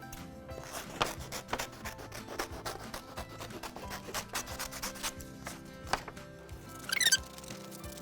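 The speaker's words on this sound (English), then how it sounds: "So now we're gonna go ahead and cut those out." Scissors cut out hand outlines traced on sheets of paper for a classroom thankful wreath craft, giving steady soft rubbing and snipping close by with no talk, plus a brief brighter rasp near the end.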